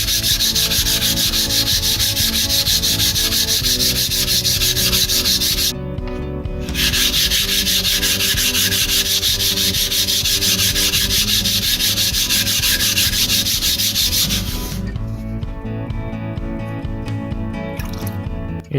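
Spyderco PM2 folding knife with M4 steel being sharpened on a 500 grit stone, a steady continuous rasping scrape of blade over stone that runs almost the whole time, close and loud, with brief pauses between strokes.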